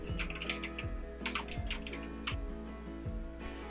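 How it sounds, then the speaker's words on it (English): Fingers type steadily on a retro mechanical keyboard, a close, continuous patter of clacky keystrokes over a constant low air-conditioner buzz, with no talking. "This is a retro keyboard."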